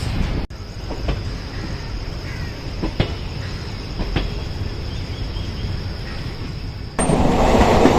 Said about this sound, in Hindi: New Delhi Sogaria intercity express